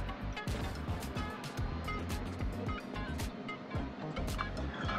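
A Tesla Model Y fast charging at an Electrify America station through a CCS adapter gives off a steady whirring, droning noise with a pulsing low rumble, close and continuous.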